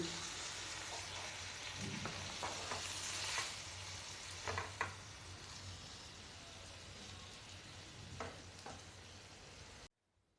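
Jackfruit curry in water coming to a boil in a pot over a medium gas flame, a continuous low bubbling and hiss with a few faint clicks and scrapes, steady then cutting off near the end.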